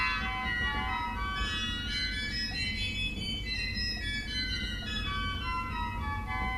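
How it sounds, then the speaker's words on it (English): A J.J. Binns pipe organ plays its two-rank Dulciana mixture stop on its own, a steady sustained chord of thin, bright harmonic pipe tones held at an even level throughout with no pauses. "Now there's a Dulciana rank mixture,"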